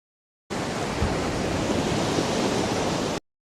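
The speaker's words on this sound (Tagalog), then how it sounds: "maraming alon ang sumalpok sa barko" Storm waves crash against a ship in a heavy sea, a steady, dense roar of surging water and spray that holds loud and unbroken for about three seconds, with no voices.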